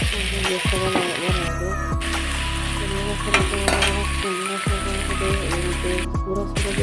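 Ghee sizzles in a pan for a village-style vegetable pulao, making a steady, fairly loud frying hiss. Scattered crackles and clinks rise above it, and a brief hum runs underneath.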